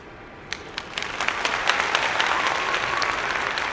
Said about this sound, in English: I'm waiting for a round of applause.